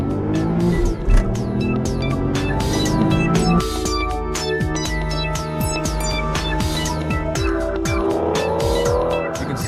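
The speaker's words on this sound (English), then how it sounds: "is the bark of that V12 engine when it roars to life" An Aston Martin DBS with a 5.9-liter V12 accelerating hard in track mode, the engine roaring and shifting up through rising and falling tones while tires squeal and chirp repeatedly, loud and close with no talk.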